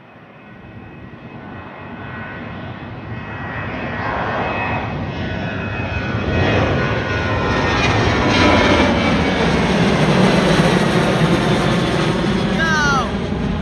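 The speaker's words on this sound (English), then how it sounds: "I'm hearing all these overhead departures for the first time, so I want to listen to how the 737s sound now." Boeing 737 jets on overhead departures at London Gatwick, a loud broad jet roar building over several seconds and holding steady as the aircraft passes close above, with faint talk in the background.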